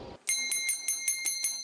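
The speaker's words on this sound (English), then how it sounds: "the sound of that bell signals the end of every workday before the screens go dark" An office bell at a telecom company marking the end of the workday rings in seven evenly spaced, bright metallic strikes, clear and fairly close, after a brief moment of background noise.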